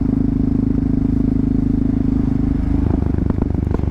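A motorcycle engine idling close by, a steady low throbbing pulse with mechanical clatter, the rhythm loosening and rising slightly near the end as the throttle is blipped.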